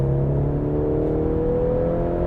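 A Mercedes C 300 AMG Line four-cylinder with a sound generator pulls hard under sharp acceleration, giving a loud, steady rising engine drone heard from inside the car with no talking.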